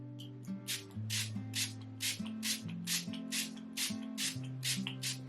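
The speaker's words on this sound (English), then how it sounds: "I'm using Artdeco 3-in-1 Makeup Fixing Spray" Short hissing bursts of Artdeco 3-in-1 Makeup Fixing Spray, about a dozen quick pumps in a regular rhythm, sound close and crisp over soft background music.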